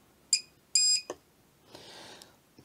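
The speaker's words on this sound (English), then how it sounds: "So you get the short beep" A short electronic beep from a supercapacitor spot welder, then a slightly longer one, sharp and clear, followed by a click and a brief hiss.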